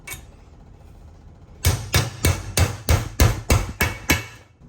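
A hammer drives a breather into a Toyota R150F manual transmission rear case through a 14mm socket resting on the flange, giving nine sharp, evenly spaced metallic knocks close up after a quiet lead-in.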